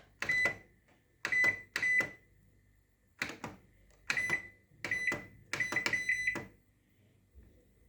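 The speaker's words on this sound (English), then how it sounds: "So this is the microwave 3D waves, so we can see." A Cecotec Proclean 5120 3D Wave microwave oven gives short, clear electronic beeps as its keypad is pressed, in several separate groups with quiet gaps between them, close by in a quiet room.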